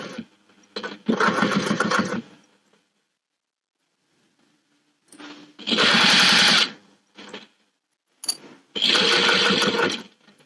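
A sewing machine stitches a zipper divider pocket on a boxed corner bag in three loud bursts of rapid running, each a second or two long, separated by pauses with brief handling clicks.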